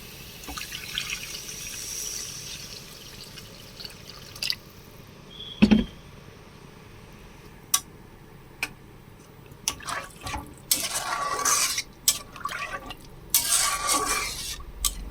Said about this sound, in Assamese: এতিয়া মই ইয়াত অলপ পানী দিম।